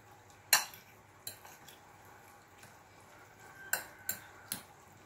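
Banana blossom and minced pork patty mixture being stirred in a bowl, with a few distinct clinks and scrapes of a utensil against the dish over quiet background noise.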